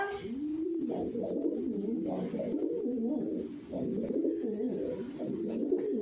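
Homing pigeons in a loft at pairing time coo repeatedly and close by, soft rolling calls overlapping one another with faint shuffling in the background.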